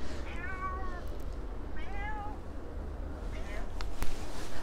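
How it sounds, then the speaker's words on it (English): Cat meowing a few times outdoors in Santa Ponsa, Mallorca, two clear meows then a fainter one over steady background noise. "I've got a cat behind me."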